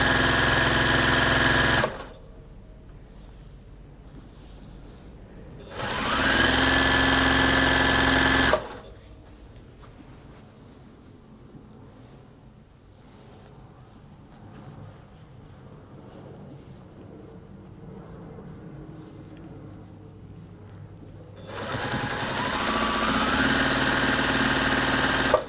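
A domestic sewing machine stitches a quarter-inch seam in three loud whirring runs, short bursts at the start and a longer run at the end, with quieter pauses between.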